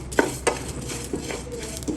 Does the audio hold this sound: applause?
no